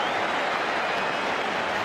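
A football stadium crowd during a Bayern Munich versus Real Madrid match roars and applauds in a dense, continuous wash of noise, loud and steady throughout with no gaps.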